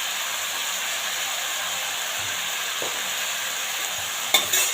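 Broccoli sabji with turmeric and salt is stirred in a frying pan, a steady loud sizzle and hiss from close by with a few soft scrapes and a louder clatter near the end, with no talk.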